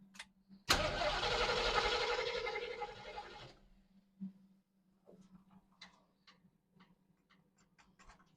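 A 1969 Ford Mustang engine cranks over in one loud burst lasting a few seconds, then stops, leaving faint ticking and clicks in a quiet garage.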